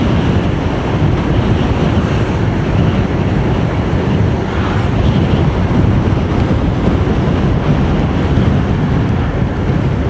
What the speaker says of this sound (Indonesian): Tapi serius ini, kalau di Pantura anginnya besar banget.